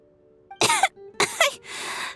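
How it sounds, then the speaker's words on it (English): Two short coughs close up, separated by a brief pause, followed by a breathy exhale, from a character in the video game Genshin Impact. "How long have you had that cough, Tonya?"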